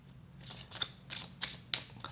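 A brand new deck of cards shuffled during a card game tutorial: a few soft, crisp riffling bursts spaced irregularly, quiet and close, with no talking.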